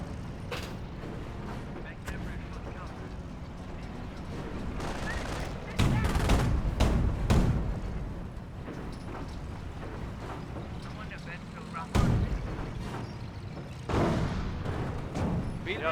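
Rifle shots and battle noise in the World War II strategy game Company of Heroes 1, with an armored car under fire: intermittent sharp cracks and louder impact bursts over a steady mechanical rumble, with a voice talking throughout.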